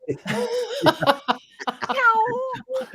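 A cat meows repeatedly, several drawn-out, wavering cries close by with short pauses between them.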